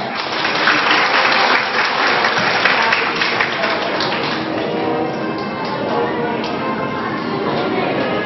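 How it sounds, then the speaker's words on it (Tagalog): Steady applause from an audience at a school award ceremony, dense clapping that carries on evenly throughout with no voices on top. "Isang malakas mong palakpak."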